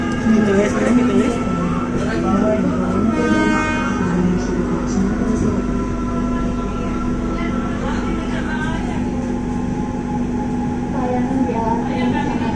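Palembang LRT light rail train running steadily with a continuous low rumble and a tonal motor whine, a voice speaking faintly over the ride noise throughout.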